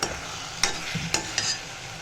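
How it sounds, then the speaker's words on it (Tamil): A tamarind and ginger mixture bubbles and sizzles in oil in a pan, giving a steady frying hiss with a few soft stirring clatters, close and alone with no voices. "இப்போது இது நல்லா புளி வாசனை போக நல்லா கொதிக்கட்டும்"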